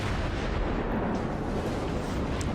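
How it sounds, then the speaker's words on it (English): Dense naval gunfire from a German cruiser battle in World of Warships, a continuous thick barrage of booming shots and blasts filling the whole moment with no pauses and no talking. "there's so much gunfire happening right now"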